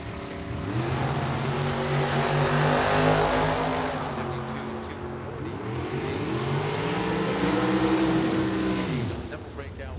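A Datsun 240 drag racing down a dragway at Tucson, its engine roaring loud and close with rising revs and harmonic sweeps as it accelerates, then a second rising pass, with an announcer talking over it.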